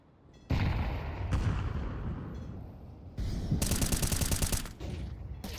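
Loud, dense bursts of M4 rifle fire in a competitive tactical shooter match, clustered volleys with brief gaps between them and a sharp rapid spray near the end.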